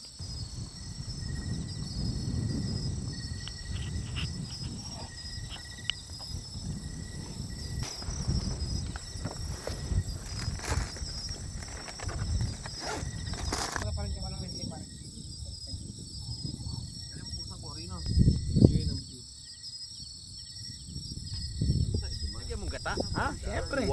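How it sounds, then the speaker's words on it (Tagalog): A steady high chirring of crickets fills a quiet night at a hillside campsite in Laguna, continuous throughout with low rustling and muffled voices underneath. "Dito marinig mo, kuliglig."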